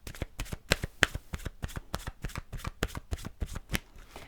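Romance Angel oracle cards shuffled close up, a rapid rhythmic run of crisp flicks and slaps, about four per second, with no talking.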